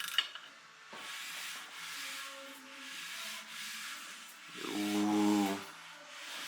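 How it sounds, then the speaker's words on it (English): An assembled Subaru EJ25 short block, pistons installed, has its rotating assembly turned by hand, giving a soft smooth rubbing and whirring drone near the mic that swells toward the end, with no voices. "So now we spin it to make sure it rotates nice and smooth."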